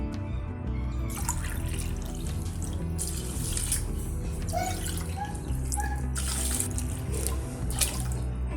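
Water poured into a cooker holding dal and rice, about eight glasses' worth, a continuous close splashing gush with faint drips and no talking.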